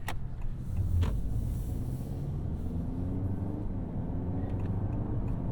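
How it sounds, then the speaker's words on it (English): A 2023 Honda Accord with a CVT drones along from inside the cabin, a steady low engine and road hum with faint stepped pitch rises from its simulated gear changes. "It does the fake gear changes, which I like."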